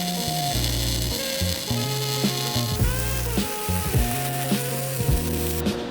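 A YesWelder DP-200 welds a 1/8 inch T-joint with a steady crackling arc sizzle. It is close and fairly loud, with small pops throughout.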